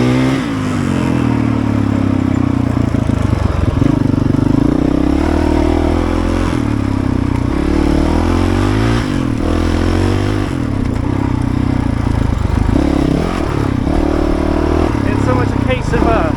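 A Honda CRF450RL enduro motorcycle is ridden over rocks, its engine revving and surging unevenly up close while the tires clatter and scrape across stone, with a rider's voice heard over the machine.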